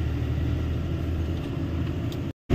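Steady low rumble of heavy road traffic and engine noise heard from inside a truck on a highway near Samakhiyali, continuous and loud, then cutting off abruptly near the end.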